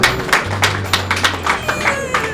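Applause at a funeral service, a short burst of uneven hand clapping from a small group, close and fairly loud, with a low hum beneath.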